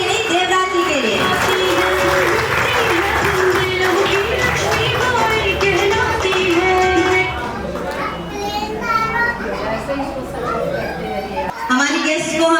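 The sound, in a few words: audience applause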